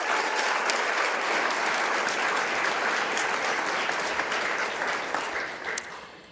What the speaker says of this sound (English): I'd like to ask everyone to give you another round of applause for your amazing creativity.